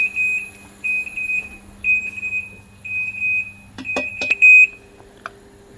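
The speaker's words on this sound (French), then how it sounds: "ça bip." Kitchen timer beeping while hard-boiling an egg, sending repeated clear, fairly loud beep bursts in a steady rhythm, and a few clattering knocks come near the end.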